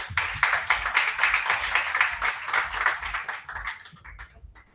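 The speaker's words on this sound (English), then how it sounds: "Please, a round of applause" Clapping from a crowd, dense and steady at first, then thinning into scattered claps before fading out.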